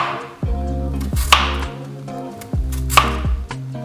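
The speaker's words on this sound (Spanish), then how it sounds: "Primero, corte la patata." A knife chops through potato on a cutting board, two heavy, close thuds about a second and a half apart, each with a short ringing knock, loud and alone.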